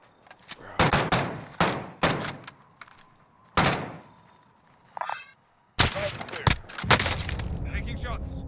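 Separate sharp sniper and rifle shots ring out in Call of Duty: Modern Warfare, a handful of loud cracks spaced apart with quiet gaps and short echoing tails, with a player speaking between them.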